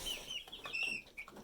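Chicks clucking and peeping inside a heated brooder, several soft overlapping calls in quick succession, close and fairly quiet, with a sharp click at the very end.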